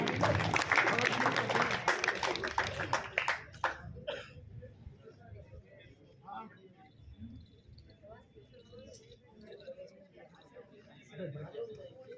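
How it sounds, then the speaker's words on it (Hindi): Audience clapping for a team at a tehsil-level talent award ceremony, loud dense applause for the first four seconds before fading into low crowd murmur and scattered claps. "जोरदार तालियां भी इनकी पूरी टीम के लिए।"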